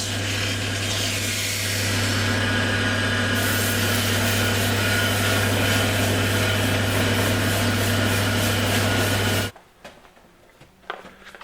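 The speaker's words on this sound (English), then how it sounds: "sanding time." Power sanding of a wooden Viking-style cup: a loud, steady machine whir with a strong low hum and broadband rubbing grit, running continuously for about nine seconds before cutting off abruptly, leaving faint workshop handling noises.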